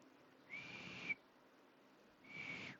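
A person whistles two sustained, shrill notes separated by a short pause, the first ending in a brief upward blip, heard close and alone.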